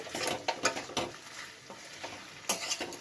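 Kochu saag (taro greens) being stirred into spices in a pan, with quick scraping, sizzling strokes in uneven bursts and a louder flurry near the end, close and with no talking.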